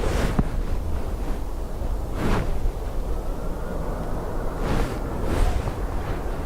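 Strong wind buffets the microphone at Dublin Airport during windy plane-spotting arrivals, a steady loud roar with gusty swells and no talking.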